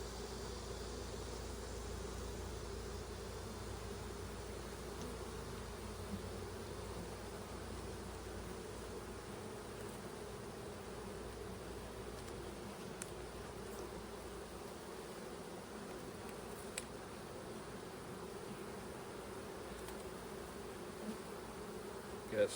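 Honey bees buzz around a brood frame lifted from the hive, a faint, steady droning hum that continues unbroken, with only a few small clicks and no voices.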